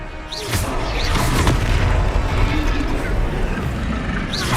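A fiery Confringo spell explosion from a video game sets off booming blasts with crashing, crackling debris amid a dense, busy game soundscape.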